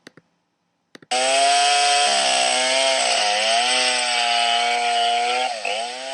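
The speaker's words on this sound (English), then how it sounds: "Take note of the man with the chainsaw and observe his actions." A chainsaw roars to life after a couple of pulls and runs loud and steady, its pitch dipping as it bites into wood.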